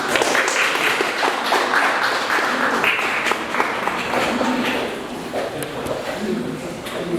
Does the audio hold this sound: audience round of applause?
yes